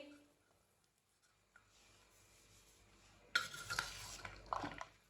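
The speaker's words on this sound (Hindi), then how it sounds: "सब चीजों को अच्छी तरह मिक्स कर लेंगे।" Lobia chaat ingredients get stirred together in a bowl, quiet at first and then a louder stretch of spoon scraping and clinking in the last two seconds, close with no talking.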